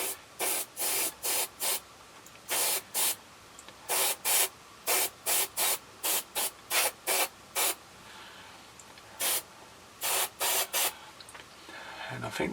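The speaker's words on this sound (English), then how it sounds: "So I just want to spray just over the decals on the vase." Aerosol spray paint misted over decals on a 1:35 scale Trippel SG 6/38 amphibious vehicle model kit, heard as around twenty short, close hissing bursts in quick irregular runs with brief pauses between groups.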